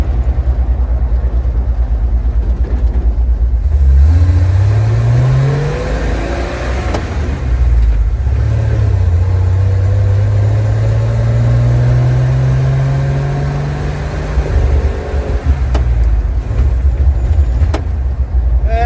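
A 1969 Chevy C30 truck engine that is losing fuel pressure runs rough, its loud close drone rising and falling unevenly and sagging in pitch, with short dips and stumbles.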